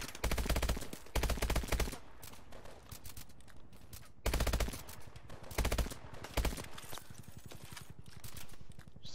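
Automatic gunfire in the PS4 shooter Call of Duty: Advanced Warfare, heard as loud rapid bursts that stop and start repeatedly, with short gaps between volleys.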